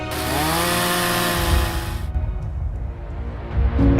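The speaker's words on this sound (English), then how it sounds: "After this begins the process of grating, sanding and sawing." A saw cuts steadily through a 450-kilogram block of Songhua River ice for ice sculpture, loud and continuous at first, then breaks off into rougher, intermittent scraping.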